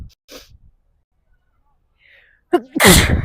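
A single sharp, loud sneeze bursts out at the end after a short quiet stretch, preceded by a faint intake of breath, outdoors at the Atlanta Botanical Garden.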